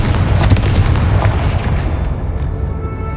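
A Confringo spell blast in Hogwarts Legacy, a single loud booming explosion with a deep rumbling body that decays over about three seconds.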